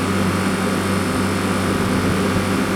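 A milk cooler fan motor drones continuously with a steady low hum and a broad whooshing rush of air, constant and fairly loud throughout.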